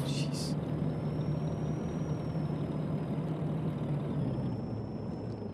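A cement mixer truck in Euro Truck Simulator 2 drives on with a steady, low engine drone and rumble throughout, a faint whine above it and a short hiss near the start, no voice over it.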